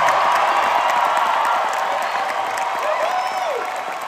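Packed convention-hall audience of over 2,600 fans at MegaCon Orlando applauding and cheering, a dense continuous roar of clapping and shouts that stays loud throughout and eases slightly toward the end.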